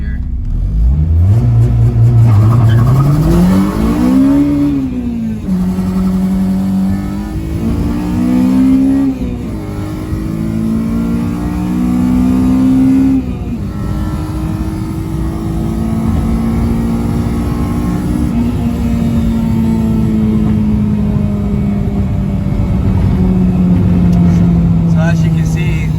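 A Honda Civic with a K20Z1 engine revs hard and climbs in pitch as it launches with wheelspin, the tone wavering and rising through long pulls with tire squeal possible underneath.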